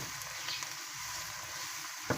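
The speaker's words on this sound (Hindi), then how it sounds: "अब हम टमाटर को थोड़ा सा फ्राई करेंगे जब तक ये बैठ जाए जी" Tomatoes and onions fry gently over a low flame for a Pakistani-style Yemeni omelette, giving a soft, steady, quiet sizzle with a single faint clink near the end and no talk.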